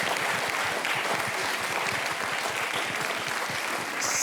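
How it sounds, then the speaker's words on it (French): A live audience claps steadily and fairly loudly for a few seconds after a piano-and-voice performance, with dense, even applause throughout. "Ça s'applaudit s'il vous plaît."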